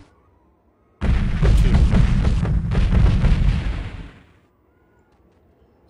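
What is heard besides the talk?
explosions of barrels in the video game Delta Force 2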